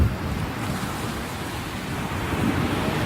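Ocean waves breaking at a beach, a steady broadband wash of surf with wind noise over the microphone, loud and continuous with no talk.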